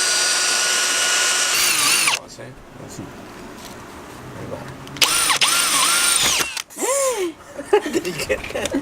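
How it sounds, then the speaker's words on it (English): A power drill bores a hole for an air conditioner install, a loud whining run for about two seconds, then later bursts of drilling with pitch sweeps as the motor speeds and slows; voices talk between. "meanwhile I drill this hole"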